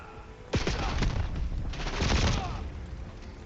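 KRS 7.62 rifle fire in Black Ops 7, a burst of loud, close shots with a second cluster of rapid reports a second later over dense game noise.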